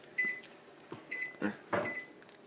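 A microwave oven gives three short, high electronic beeps spaced about a second apart, fairly quiet, with a few soft knocks and rustles between them.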